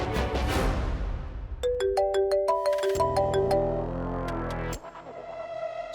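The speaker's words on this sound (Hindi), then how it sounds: "एक बार लाली जी को फोन तो करो, उनसे पूछ तो लो कि वहां क्या चल रहा है" A phone ringtone plays loudly and continuously as someone places a call, a bright electronic melody of stepped, chiming tones repeating over a few seconds with no talk.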